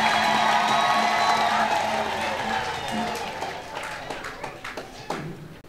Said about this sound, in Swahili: Haya, tupaze sauti na kumpigia makofi tena Mungu wetu.